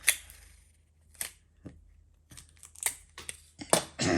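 Sticky tape is ripped from a roll in several short, sharp bursts at irregular intervals, close by, with quiet pauses between.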